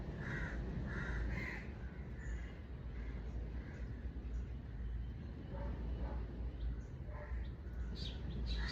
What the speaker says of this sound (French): Divers oiseaux.